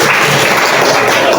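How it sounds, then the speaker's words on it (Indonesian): A classroom of students applauding at the end of a mathematics lesson, a short burst of dense, fairly loud clapping heard up close. "beri tepuk tangan"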